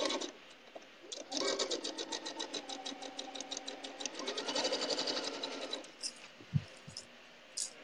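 A sewing machine stitches a long seam on a log cabin quilt: a steady rapid mechanical whirring run of needle strokes for several seconds, then it stops, leaving a few clicks and thumps nearby.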